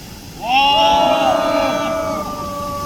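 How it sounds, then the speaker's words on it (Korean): A crowd at a disability-rights rally in front of Cheong Wa Dae in Seoul bursts into loud cheering and shouting, rising sharply after a brief lull and holding steady with sustained whoops and cries. "어디 모두 힘찬 격려 함성화를 외쳐주시기 바랍니다."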